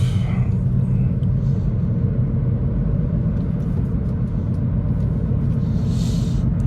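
A 2007 Mazda 3 SGT five-speed cruising in fourth gear at about 2,000 rpm produces a steady, loud low engine drone and road rumble that holds even throughout.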